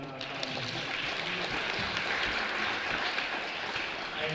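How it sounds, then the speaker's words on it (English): An awards-show audience applauds the hosts at the 2024 BMB Awards, a sustained crowd clapping that stays even and moderately loud throughout, with some voices mixed in. "Let's give one last round of applause for our hosts and"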